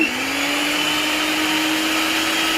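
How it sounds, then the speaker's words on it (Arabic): An electric mixer or blender whirs steadily as dough is mixed from flour, salt, baking powder, two eggs and butter. The motor holds one loud, even drone throughout, close by and with no voices. "راح اخلط المكونات"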